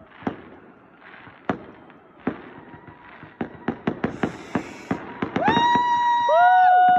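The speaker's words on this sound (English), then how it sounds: "Oh, look at the fireworks." New Year fireworks burst in a rapid series of sharp, loud bangs that quicken into a dense crackling barrage, followed by several rising whistles, with a voice faintly present between bursts.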